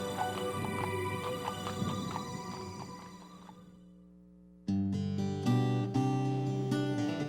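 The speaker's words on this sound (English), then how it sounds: "And everybody loves these horses." Police horses clip-clop as they walk, their hooves knocking faintly under music for several seconds before the music swells and takes over.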